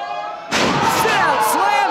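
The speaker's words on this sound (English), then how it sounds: "slams him, goes for the cover" A pro wrestler is slammed onto the ring mat at a wrestling show, a sudden heavy thud followed by a loud crowd roar, with a commentator's voice audible before and over it.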